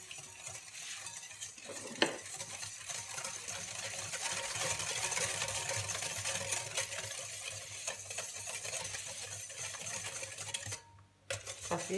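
Flour, salt and sugar for chocolate muffins are stirred together in a bowl, making a continuous close scraping and rustling that runs steadily throughout, with no talking.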